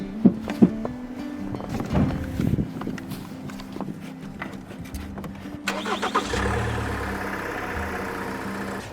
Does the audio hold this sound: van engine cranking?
yes